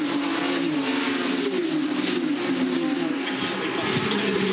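Porsche Carrera Cup race cars at Bathurst, running on sticky Michelin tyres, roar past at high speed with a loud, sustained engine drone and shifting pitch that never lets up.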